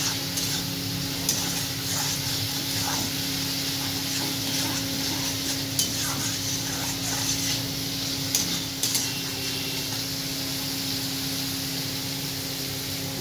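Egg curry masala is sautéed in a pan, giving a continuous hissing sizzle with scattered scrapes and clinks from a spoon working the mixture, steady and close with no talking.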